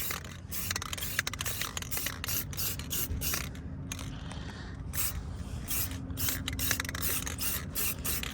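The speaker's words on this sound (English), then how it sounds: "this is just a regular can spray, gloss black" Gloss black paint hisses steadily from an ordinary aerosol spray can while a car's interior panels and mats are recoloured, a continuous broadband spray with small rattles and scrapes, close and fairly loud, no talking.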